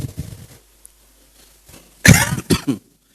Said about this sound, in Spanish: Tengo un poco de tos, le pido disculpas